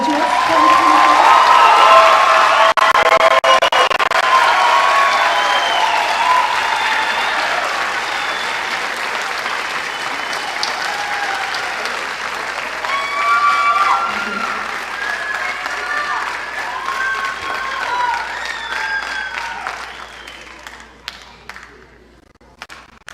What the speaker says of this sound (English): Another round of applause for the graduates.